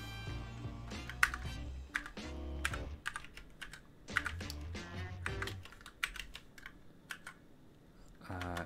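Someone types on a computer keyboard while coding, with quick bursts of close, crisp key clicks separated by short pauses and a soft low background hum.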